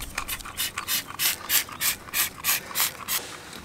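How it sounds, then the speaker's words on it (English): A series of about ten short, sharp hissing bursts in a steady rhythm, close by, as a trigger spray bottle of Super Clean cleaner is pumped repeatedly onto a boat. "We are going to spray this stuff on here and see how well it works."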